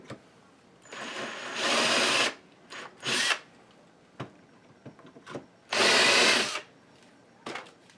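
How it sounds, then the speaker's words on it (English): An electric drill bores pilot holes for mounting a Lee Precision reloading press plate, in loud whirring bursts of about a second each, separated by quieter handling noises and short taps between runs. "Now I'm going to drill the other holes, make sure everything is lined up where I want it to be"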